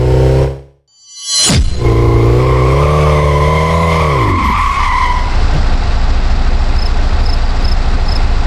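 A car's handbrake skid in a racing video game, a long tire squeal that bends and fades over a loud, steady engine drone after a brief silence.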